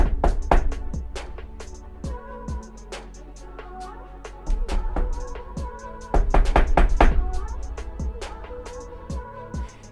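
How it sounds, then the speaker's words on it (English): Knuckles rap on a desk in irregular bursts of sharp, close knocks, some single and some in quick clusters, over about ten seconds with no talking. "let's say I knock on my desk"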